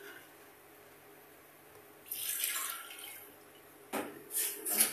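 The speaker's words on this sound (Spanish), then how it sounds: "Vamos a colocar el agua." Water pours into a pot set on an induction cooker, a soft splashing gush in two short bursts over a quiet kitchen background, with no talking.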